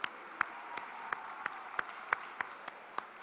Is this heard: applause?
yes